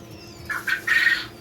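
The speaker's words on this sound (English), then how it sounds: "There are a lot of birds." A few short, high chirps from newly hatched chicks, three quick bursts over the faint steady hum of an incubator, fairly close.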